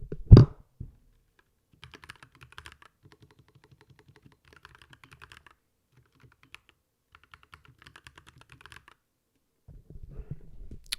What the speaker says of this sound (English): I'll put this down here so you can listen to me type